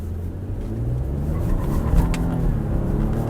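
A Ford F-150 pickup with the 2.7-litre twin-turbo EcoBoost accelerates hard in sport mode, a close, steady low engine rumble building slightly, heard from inside with no talk.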